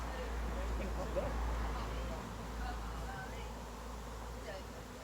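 Dense, steady drone of many honey bees buzzing at an open hive during an inspection, heard close and continuous with a low hum underneath and talk faintly mixed in.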